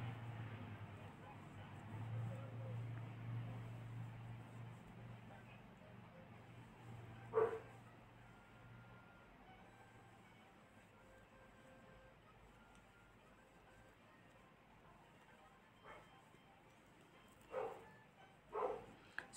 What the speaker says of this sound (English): It's my neighbor dog.